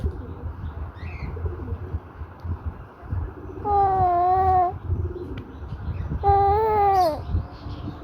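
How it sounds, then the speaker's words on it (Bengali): Pet pigeons coo while feeding, two drawn-out, wavering calls rising and falling, close by over a low background rumble, with faint chirps between them. "কবুতরগুলা"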